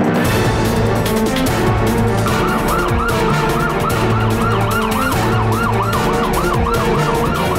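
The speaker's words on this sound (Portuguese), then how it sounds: "Quando a sirene toca, começa uma corrida contra o tempo." A fire engine's loud wailing siren rises and falls over heavy engine rumble and traffic noise, continuous and close.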